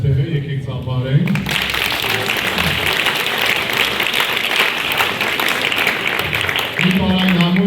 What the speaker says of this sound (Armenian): եկեք ծափարենք